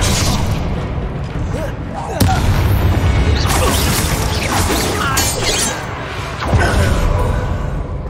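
Confringo blasting spell exploding in Hogwarts Legacy amid a dense, loud battle, with booms, crashes and whooshes over a constant rumbling bed and voices shouting through the fight.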